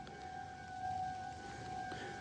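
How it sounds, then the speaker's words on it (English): A tornado siren wails with a steady two-tone drone at night, heard faintly through heavy rain, with no talking. "enough to trigger the tornado siren? And yeah, it's really raining hard"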